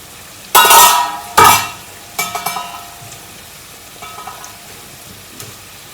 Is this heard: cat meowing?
no